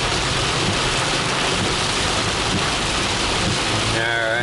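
Rain grows heavier during Hurricane Ian in South Miami, a loud, dense, continuous wash of drops pounding nearby surfaces that fills the whole stretch, with a brief warbling tone surfacing near the end.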